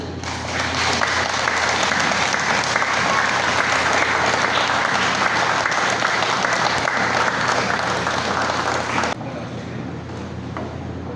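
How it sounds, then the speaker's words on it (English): A church audience in Makati, Metro Manila, breaks into loud, dense applause for an achievement, sustained clapping for about nine seconds before it drops away abruptly to quieter room noise. "let us give applause to"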